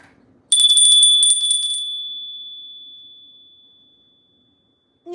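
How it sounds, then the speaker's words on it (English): A single bright bell rings once with a sharp strike, its pure tone ringing on and fading slowly over several seconds in an otherwise quiet room. "I'm going to ring the bell"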